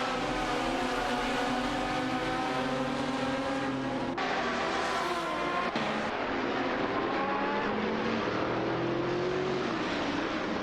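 Race cars in an AI racing video game, among them a Nissan 350Z and Chrysler Viper GTSRs, roar continuously with shifting, whining engine pitches as cars rev and pass, loud and close with overlapping engines and no talk.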